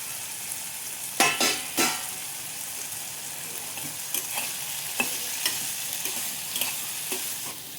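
Tomatoes, red chilies and coconut cook in a pan and are stirred, with a steady low sizzle and several sharp scraping strokes near the start, then lighter taps and scrapes spread across the rest.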